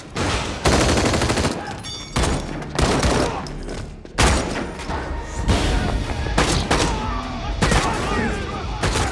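Rapid bursts of loud gunfire, several volleys of shots fired close by with short pauses between them.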